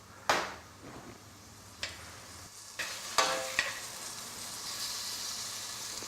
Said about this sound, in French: Une fois que les échalotes sont tranquillement en train de suer